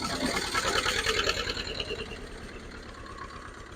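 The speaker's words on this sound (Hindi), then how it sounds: "और बढ़िया आवाज आ रही है ट्रैक्टर की।" An antique 1969 Zetor diesel tractor idles nearby with a steady, even mechanical chugging and rattle that holds throughout and eases slightly toward the end, with no talk over it.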